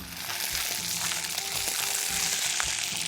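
Onions, green chillies and pointed gourd stirred together in a hot oiled pan for parwal masala, giving a steady, close sizzle with soft rhythmic scraping of the spoon throughout.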